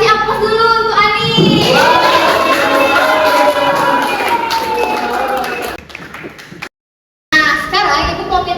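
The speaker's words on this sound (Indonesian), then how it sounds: "Kasih aplaus dulu untuk Ani" Classroom applause for a student named Ani during a lesson, a loud sustained burst of clapping and cheerful voices that fades, breaks into a brief silence, then resumes with talk.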